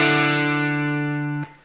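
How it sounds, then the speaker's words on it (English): A distorted electric guitar plays one sustained octave chord from a riff, ringing loud and steady before being cut off sharply near the end. "Then he goes into this little riff that's an octave riff."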